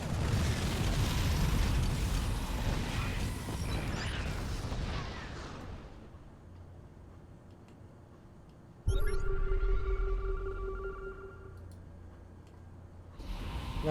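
Explosive bursts and mechanical attack sounds from auto turrets firing on a battlecruiser in the StarCraft II video game, loud at first and fading, then a sharp new burst with tonal game effects before dying away.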